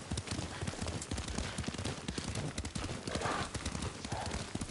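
Steady clip-clop of horse hooves at a trot in the video game Ghost of Tsushima, fairly close, continuing throughout with a busy background and no clear talk.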